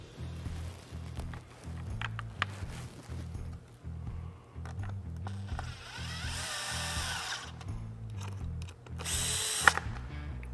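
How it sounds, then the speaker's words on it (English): A power screwdriver whirs faintly in a couple of short bursts, tightening screws on a trolling motor pedal plate, over a steady low soundtrack of music. "use our number 2 Phillips screwdriver to tighten the screws"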